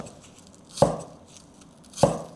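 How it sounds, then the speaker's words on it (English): A knife cuts through Chinese yam on a board, slicing half-moon pieces about 2 millimeters thick: two crisp, distinct chops about a second apart against quiet kitchen background. "Just cut this way into half, and then cut it into half moon shape."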